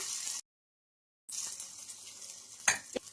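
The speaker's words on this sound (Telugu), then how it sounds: "ఇప్పుడు ఒక గరిటె పిండిని అయితే తీసుకుంటున్నాను. ఇలా వేసుకొని లైట్ గా స్ప్రెడ్ చేసుకోవాలి." Oats batter ladled onto a hot oiled pan crackles with a close, steady sizzle, broken by a short silent gap, then a few sharp clinks as the ladle spreads it.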